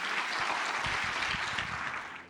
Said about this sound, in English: Let's give a round of applause to Pat Gelsinger.